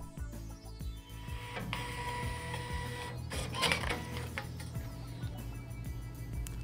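A Zebra ZT411 label printer hums and clicks steadily as it feeds media during auto calibration, a close, even mechanical whir with faint intermittent taps.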